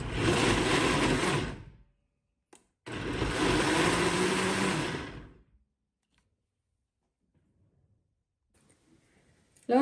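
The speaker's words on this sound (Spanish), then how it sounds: "vamos a llevar a licuar. Apagando y prendiendo para que sea nada más como martajada la salsa" Blender pulsing tomatoes, onion and garlic into a coarse salsa, two loud whirring bursts of about two and three seconds separated by a short pause, followed by near silence and a brief clatter at the end.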